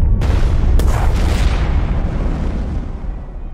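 A bombing explosion in the World War II card game KARDS: a loud, close deep boom with a sharp crack, then a long rumble that slowly fades over a few seconds, with no talk.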